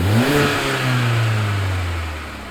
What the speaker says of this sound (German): mein Kollege geht jetzt einmal ins Auto rein und wird das Motor einmal anmachen